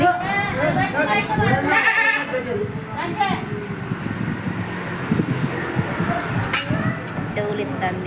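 A goat at an Yellamma temple gathering bleats several times, loud and close, amid constant chatter from a crowd, with traffic-like rumble in the background.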